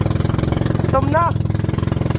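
A fishing boat engine runs with a steady, rapid, pulsing throb close by, loud and uneven in places, while someone briefly speaks over it.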